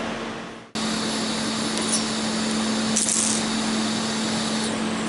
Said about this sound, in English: So I'm going to weld it from the top.